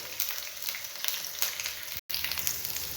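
Onions sizzle steadily in hot oil for pothina (mint) chutney, a close, continuous crackling fry with a few louder spits and a brief cut near the end.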